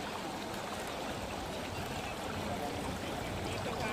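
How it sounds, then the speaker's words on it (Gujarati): Floodwater of the overflowing Jambua river rushes in a steady, dense broadband roar with no breaks, close and continuous throughout. "જાંબુઆ નદી સતત ઓવરફ્લો થઈ રહી છે"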